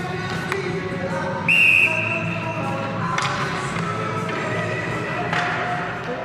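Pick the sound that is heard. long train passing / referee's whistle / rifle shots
referee's whistle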